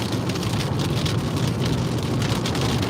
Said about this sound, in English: we're finally getting out of this rain